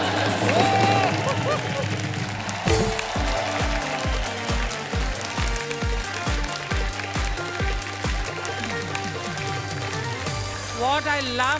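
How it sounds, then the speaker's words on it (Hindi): A studio audience on a comedy show claps loudly and continuously for two performers, the applause blending under punchy music beats and a voice. "इन दोनों के लिए जोर जोर से तालियां बजाएं।"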